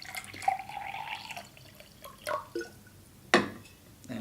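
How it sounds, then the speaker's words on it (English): Water is poured into a glass holding bicarb soda, with a few short trickles and splashes separated by quiet gaps, close and fairly soft. "And then I'm putting water into that to dilute it."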